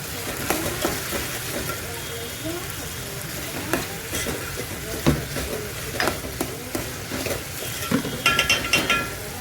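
Turmeric and salt go into hot oil in a pan while Maggi noodles are made, giving a constant close sizzle broken by scraping stirs and light metal clinks of a spoon against the pan.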